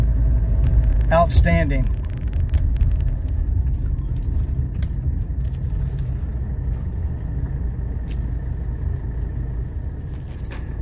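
A car driving along a road right after a hard braking test, its steady engine and road rumble running throughout, with someone speaking briefly near the start.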